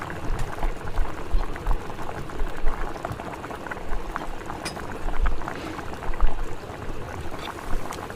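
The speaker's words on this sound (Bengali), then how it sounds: "কি সুন্দর গদগদানি শব্দ উঠে গেছে, দেখছেন?" A pot of ash gourd curry bubbles at a steady boil, a dense, continuous gurgling with soft pops rising and falling throughout, close and fairly loud with no voices.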